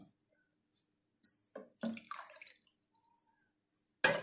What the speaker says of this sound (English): Friends, now add water into this.